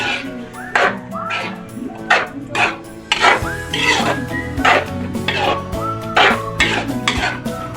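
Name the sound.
stirring pancit in a cooking pan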